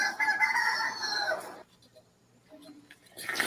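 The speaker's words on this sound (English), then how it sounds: "There's a rooster there I can't see." A rooster crows once, a fairly distant, drawn-out call heard outdoors, followed by a short quiet gap and faint rustling noise.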